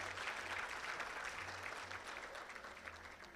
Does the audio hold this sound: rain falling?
no